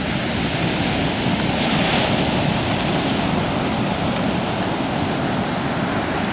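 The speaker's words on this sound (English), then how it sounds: "this is going to be the first time one of us has touched the Pacific Ocean" Pacific Ocean surf rolling onto the shore at Brookings, Oregon, a loud, dense, continuous wash of breaking waves heard close, filling the whole stretch without pauses or voices.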